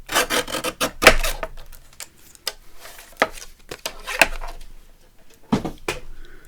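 Scissors snipping through paper craft-box packaging while trimming a card, a series of short crisp cuts and rasping slides at close range, irregularly spaced with quiet gaps between, no voices.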